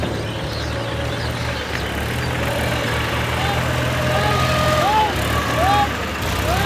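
A tractor stuck in a field idles with a steady low rumbling drone, near and constant throughout, while people talk over it.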